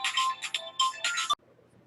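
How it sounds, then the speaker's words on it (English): An incoming call's phone ringtone chimes in a repeating electronic melody of short bursts, fairly loud and close, then cuts off abruptly into near silence. "let me pause this video because I'm getting a phone call."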